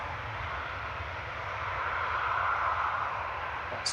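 Aircraft departing Manchester Airport, a distant jet roar that swells slightly midway and stays steady, brief and fairly faint, with no speech.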